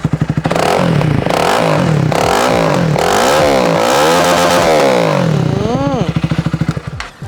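A 2017 Honda Rebel 300 motorcycle customized in Harley style idles and revs up close, loud and throbbing, its pitch swinging up and down for several seconds. A voice seems to join in near the end, mimicking the engine's beat.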